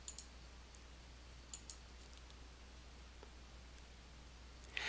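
Mouse clicks while selecting desktop background images in Windows 8.1: a handful of faint, sharp clicks, some in quick pairs, scattered over a quiet steady hum with no talking.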